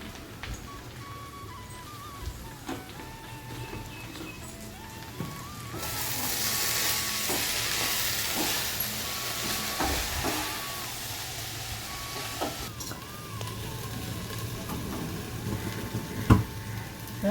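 Buttermilk rasam coming to a boil in a pot, with a steady bubbling hiss that swells midway and holds, joined by a few faint clinks and soft background tones.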